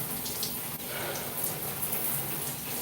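Warm shower water running close by, a steady, full-band rushing hiss that holds unbroken throughout.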